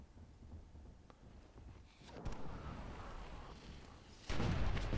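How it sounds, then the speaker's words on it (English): Mortar shots in the Myth II Soulblighter strategy game during a free-for-all tournament match: dull booming thuds and crackling bursts over a rumbling battle bed, building to a louder, denser blast near the end. "Nice mortar shot there from Adrenaline."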